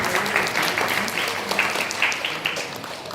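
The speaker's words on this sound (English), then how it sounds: "So, another round of applause for that one, please." An audience at a Kuchipudi dance event gives a sustained round of applause, a thick, continuous patter of many hands that stays even and fairly loud throughout.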